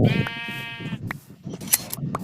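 A sheep in the Minecraft video game bleats once in a long wavering call, loud and close, followed by a few short clicks and faint soft noises.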